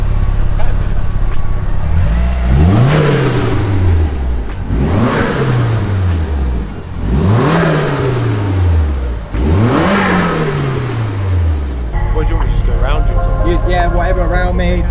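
A Nissan S13 180SX drift car's engine revs hard four times in a row, each rise ending in a turbo flutter as the throttle drops, loud and close, then settles to a rougher idle; voices are faintly present.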